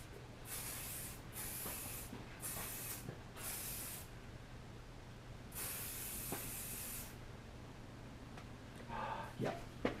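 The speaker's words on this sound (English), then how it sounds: "We'll do a blast of hairspray for you." Several short hissing blasts of hairspray from an aerosol can aimed at styled hair during a retro haircut, with pauses between the sprays and a faint low hum underneath.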